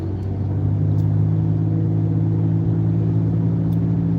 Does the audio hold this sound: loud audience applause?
no